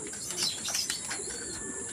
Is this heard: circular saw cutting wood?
no